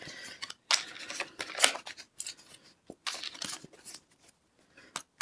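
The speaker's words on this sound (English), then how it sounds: "I pulled so many cards, I will start shuffling them again and put them back so I can answer" Psychic reading cards shuffled by hand, with crisp riffling and flicking bursts separated by short pauses, close and fairly quiet with no talk.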